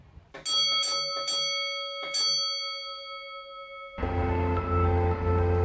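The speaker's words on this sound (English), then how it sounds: "So today we're at St Andrew's Church, South Stoke, to learn how to bell ring." Church bells at St Andrew's Church, South Stoke, strike several times with clear, ringing metallic tones that hang and decay, then a louder burst of clanging, overlapping peals takes over.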